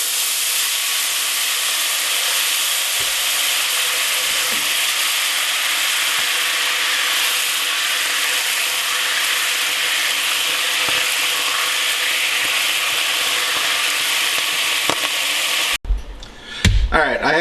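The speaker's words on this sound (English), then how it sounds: "Next step is to deglaze the pan." A hot pan being deglazed with broth while cooking pot roast gives a loud, steady hiss and sizzle that holds for many seconds before cutting off abruptly, followed by a few faint clunks.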